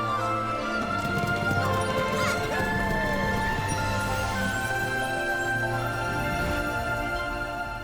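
In the video game Infinity Nikki, a magic carriage is drawn along with clip-clopping hooves and a whinny over a bed of game music, with a few crashing effects mixed in.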